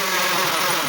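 A hammer drill with a 3/8 bit bores into a garage concrete floor, giving a loud, steady, gritty grinding roar that runs without a break for the whole second.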